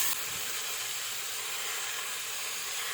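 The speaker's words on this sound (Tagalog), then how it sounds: "Igigisa ko siya ng bahagya." Pork sautés with onion and garlic in oil for sinigang, a steady, even sizzling hiss that runs unbroken throughout.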